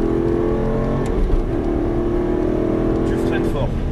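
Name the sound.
car engine accelerating at full throttle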